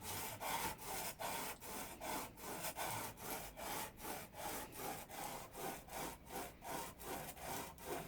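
An edge tool is honed on a 400 grit sharpening stone, with faint, close, rhythmic scraping strokes repeating steadily, roughly two per second, with no voices.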